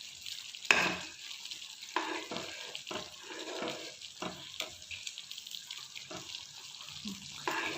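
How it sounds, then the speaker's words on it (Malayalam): Lentil curry being stirred in a pan on the stove, a spoon scraping and sloshing through the thick mixture in a series of short strokes, with a soft sizzle underneath and one sharper clank near the start. "നന്നായിട്ടൊന്ന് ഇളക്കി ചേർത്ത് കൊടുക്കുക"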